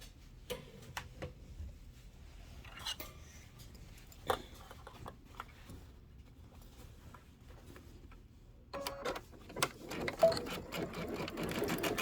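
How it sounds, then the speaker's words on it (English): Domestic sewing machine stitching down the outer border edges of a quilted table topper, running in short quiet bursts with pauses between, the motor growing louder and more continuous toward the end. "let's stitch these two outer border edges down"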